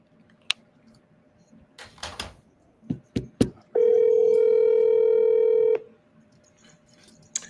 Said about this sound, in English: I'm gonna keep dialing too.